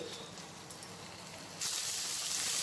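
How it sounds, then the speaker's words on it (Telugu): Crushed garlic and green chillies fry in a pan with a soft, faint sizzle that turns into a brighter, louder hiss partway through. "ఇప్పుడు ఇందులో కచ్చా పచ్చగా దంచిన వెల్లుల్లి అలాగే పచ్చిమిర్చి వేసేసుకుందాము. కొద్దిసేపు ఫ్రై చేసేసుకోవాలి."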